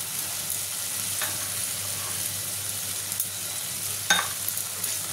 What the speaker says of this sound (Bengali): এবার এটা আমি কষিয়ে নেবো ভালো করে